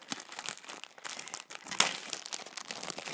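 Scissors slice through the packaging of a box being opened, making repeated close crinkling and snipping crunches with one sharper tear partway through, no voices.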